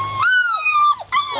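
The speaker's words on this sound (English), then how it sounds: "Puppy hollers." A German shepherd puppy hollers in a drawn-out, wavering high whine that rises, bends and breaks off, then starts again, close and fairly loud.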